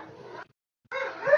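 A dog gives two short, sharp barks or yips, separated by a brief silence, fairly near and moderately loud with no talk over them.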